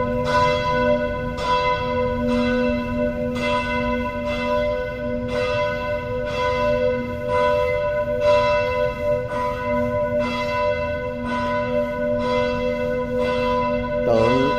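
Noon bells at Chợ Quán church in Chợ Lớn toll in a steady series of strikes about a second apart, each leaving a sustained resonant hum, heard from the churchyard without talk.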